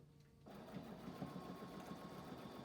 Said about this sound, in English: I'm just going to sew that together